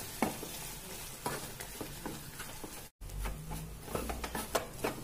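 Wheat flour is stirred into hot water in a pan over low heat, making close scraping and stirring strokes with a light sizzle. A brief break in the sound comes midway, and no one talks.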